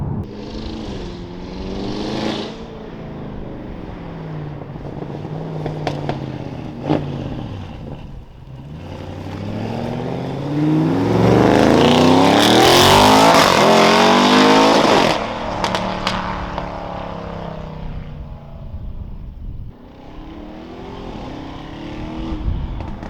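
An Audi RS6's loud, raspy aftermarket exhaust revs and roars, swelling to a harsh peak as it accelerates hard, then settling back to a rumbling idle.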